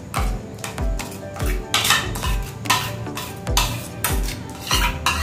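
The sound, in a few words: beating yogurt in a bowl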